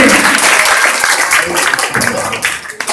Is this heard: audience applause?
yes